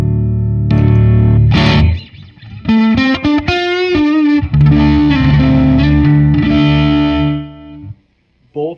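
A Mexican-made Fender Strat with an HSS pickup layout runs through a Fuzz Imp Amity dual overdrive pedal, producing loud, gritty overdriven chords and fast single-note runs up close, fading out at the end with no talking.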